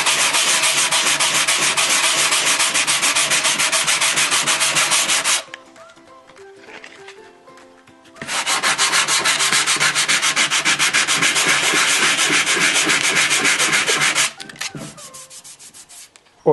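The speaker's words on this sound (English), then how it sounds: "to sand it, what I use is either a block of wood and a piece of fairly medium grade" Dried filler being sanded by hand with medium-grade sandpaper wrapped around a wood block: loud, steady rasping strokes in a fast back-and-forth rhythm, close up, running in two long stretches with a brief pause between.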